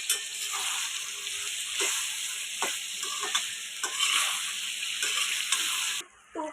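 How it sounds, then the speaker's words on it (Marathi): Veg biryani mixture with potatoes and mint being mixed in a pot, giving a continuous bright sizzle with scattered soft scraping strokes, close and steady, before it cuts off briefly near the end. "आता याला चांगलं मिक्स करूया"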